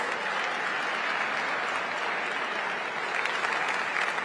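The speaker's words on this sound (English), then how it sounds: "A round of applause to our contestants" Even, continuous applause from the audience at a school quiz championship final, many hands clapping at a moderate distance with no speech on top.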